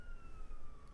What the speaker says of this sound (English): that is a siren on our end, and it won't go away